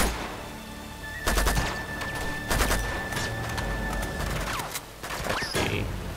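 Gunfire in Uncharted 2: Among Thieves, with sharp bursts of shots in clusters, loud and close, separated by quieter gaps with a steady background tone.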